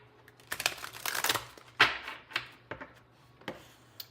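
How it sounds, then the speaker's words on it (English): Tarot cards being shuffled up close, a quick burst of crisp riffling and flicking followed by a few softer separate card snaps, with no voice. "Let's shuffle these cards really good."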